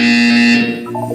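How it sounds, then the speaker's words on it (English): A loud, harsh buzzer in a Portal 2 test chamber sounds in one steady blast for about half a second, then fades into a lower electronic tone. "You will hear a buzzer."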